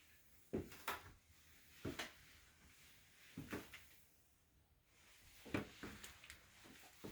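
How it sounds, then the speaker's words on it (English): Old wooden stairs in a home creak underfoot in several separate clusters of short knocks and groans, each group arriving a second or two apart, fairly faint, with no talking. "you'll hear the creaking stairs"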